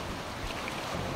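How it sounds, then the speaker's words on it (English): A fast, loud river rushes in the WolfQuest video game's rugged Hellroaring Mountain area, a constant broadband roar of churning water that fills the whole moment with no voice over it. "The river's very loud."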